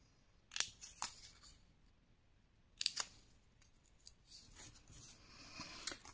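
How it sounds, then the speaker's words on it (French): Scissors snip small squares out of scrapbooking paper in a quiet room, a few crisp, separate cuts spread across a few seconds, with soft paper rustling between them. "vous allez couper ici les petits carrés qui se sont formés"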